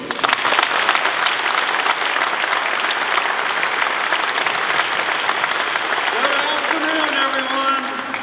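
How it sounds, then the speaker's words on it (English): An audience claps for NC State's chancellor, Dr. Randy Woodson, at a press event: dense, sustained applause filling the room and tapering slightly at the end. "please give a round of applause for our Chancellor, Dr. Randy Woodson."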